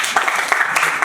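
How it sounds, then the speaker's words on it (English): Conference attendees clap briefly for a participant, a short burst of close, dense hand claps with a faint voice mixed in. "So give him a big clap."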